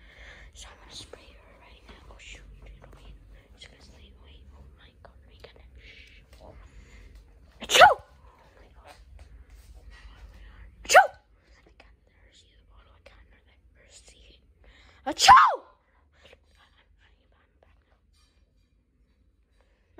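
Three loud, sharp sneezes burst out at spaced intervals beside a sleeping sister in a quiet room, with faint whispering and soft rustling in between.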